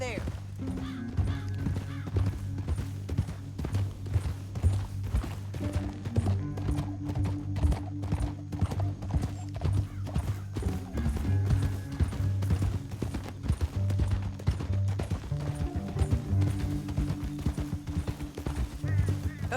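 Horse hooves clip-clop steadily in a rapid, continuous rhythm in the Red Dead Redemption video game, close and prominent, with a low musical drone underneath and brief voices now and then.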